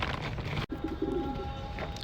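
Pigeons coo softly in short, low, throaty bursts close by, with a sharp knock early on and no voices.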